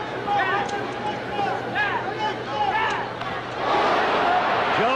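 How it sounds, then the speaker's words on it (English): A boxing crowd at the 1974 Joe Frazier versus Muhammad Ali rematch, in round seven, roars steadily in response to a Frazier left hook, a dense, continuous hubbub of many voices that swells louder toward the end. "Joe scoring with a left and the crowd responding to it"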